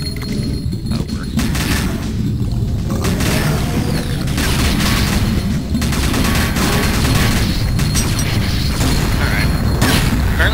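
Gunfire rings out in the Duke Nukem 3D level Derailing, with loud repeated blasts and mechanical clatter landing in irregular bursts throughout.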